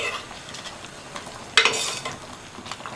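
Kolukattai dumplings in a white rice flour mixture stirred in a pot for a festival recipe, a low bubbling hiss with a sharp scraping stir burst midway, close by and without any voices.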